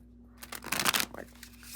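A quick riffle of cards being shuffled close by, a brief crisp flurry of papery snaps over a faint steady hum.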